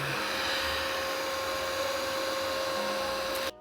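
An ECOVACS DEEBOT X11 OmniCyclone robot vacuum runs with a steady whirring motor drone and a constant high whine, holding level throughout before cutting off abruptly near the end.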